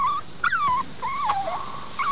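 A dog whimpers and whines in a series of high, wavering cries with short gaps between them, close and fairly loud.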